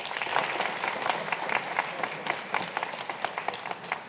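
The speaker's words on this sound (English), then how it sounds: "we're hoping to hold applause till the end of the evening" Audience applause at a city debate, steady crowd clapping with a few sharper individual claps standing out over several seconds.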